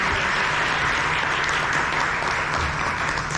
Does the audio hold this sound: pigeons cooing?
no